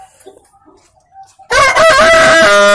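A Bangkok rooster in a coop crows loudly and close after a quiet stretch with faint background sounds, its long call ringing out alone.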